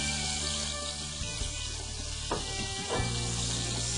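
A hot pan sizzling steadily on the stove, broken by a few sharp metallic taps of tongs against it, all close and alone.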